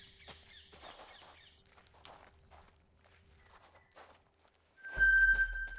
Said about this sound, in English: I'm just going to sit here because I can hear the footsteps.